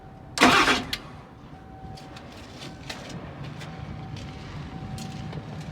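A Ford F250 truck engine is bumped over briefly, a short loud cranking burst near the start, followed by a low steady rumble with a faint tonal hum and light background noise.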